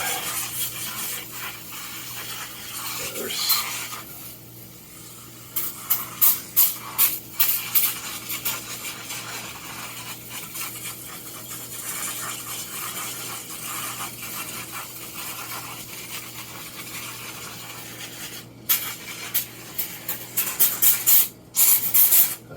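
Cleaning coating sprayed onto a dirty MRCOOL DIY mini split indoor unit, a steady hissing wash with several sharp bursts of spray, the busiest near the middle and again at the end, close by with no talk.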